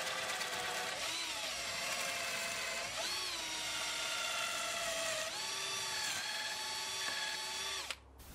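Drill boring pocket holes into a wood offcut, a steady high whine running about eight seconds with slight pitch dips as the bit bites, then cutting off abruptly.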